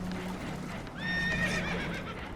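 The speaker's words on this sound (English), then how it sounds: "Horses are spooked" Spooked horses whinny in Red Dead Redemption 2, one shrill, quavering neigh rising over a steady rumbling background, moderately loud and close, with no speech over it.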